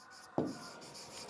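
A single short scratch of chalk or marker on a classroom board during an English grammar lesson, one clear stroke near and fairly loud, with no talking over it.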